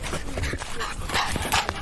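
Puppy panting in quick, soft breaths with small whimpering sounds, close by and fairly steady through a short stretch, with a little background voice.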